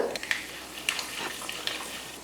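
Mustard seeds and lentils crackling and popping in hot oil in a wok, a steady sizzle with sharp little pops scattered throughout, close by.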